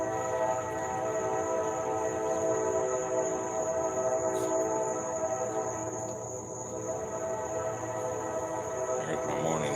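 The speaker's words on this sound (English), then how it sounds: "Here's my morning train." Morning train rolling past outdoors, a steady rumbling hum with a sustained tonal drone, insects and birds faintly audible alongside.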